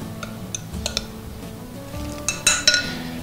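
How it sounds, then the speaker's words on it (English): A spoon mixing pork chop stuffing of dried fruit, golden raisins, salt, pepper and buttermilk in a bowl, giving soft scraping and a few sharp clinks against the bowl near the end, close and without talking. "And we'll bring it together with a spoon."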